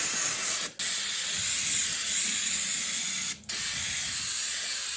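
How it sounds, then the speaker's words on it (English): Brake cleaner sprays from an aerosol can onto a car part during exterior work on a Chevrolet Monte Carlo SS Intimidator: a loud, close, continuous hiss, cut by two brief pauses. "brake cleaner does a pretty good job of this stuff"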